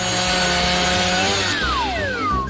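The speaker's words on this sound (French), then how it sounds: "Maintenant, je vais couper ces gaufres." A hand saw cutting through waffles, a close, loud scraping rasp with rhythmic back-and-forth strokes, ending in a few squeaky rising and falling tones as the cut finishes.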